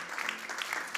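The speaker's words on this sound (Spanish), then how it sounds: "¿Cuántos dan un aplauso al Señor?" Steady crowd applause at a church service, a dense patter of many hands clapping at moderate volume for a short moment.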